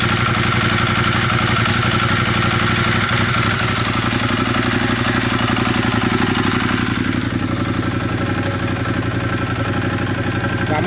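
A warm Ducati Monster 821 engine idles just after an oil and filter change, a loud, steady, close-up rumble with a fast even thrum and mechanical clatter lasting about eleven seconds.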